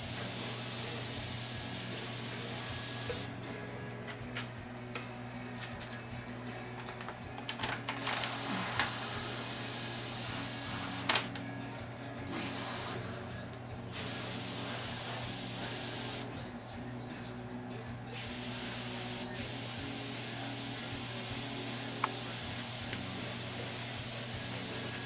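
An airbrush sprays paint in long, steady hissing bursts, several sustained passes separated by brief pauses, close and loud with no talking.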